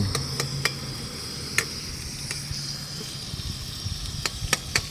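Broiler chicken meat frying with onion in a pan, a steady soft sizzle with scattered sharp ticks and clinks of stirring utensils.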